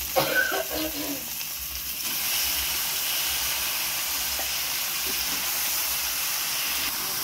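Washed chicken pieces hitting a hot pan for curry, setting off a loud, steady sizzle and hiss that builds after a brief clatter and keeps going.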